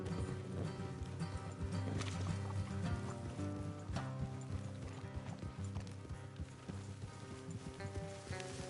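Horses clip-clop steadily along a trail in the Red Dead Redemption 2 video game, the hoofbeats fairly soft and running under a continuous musical score.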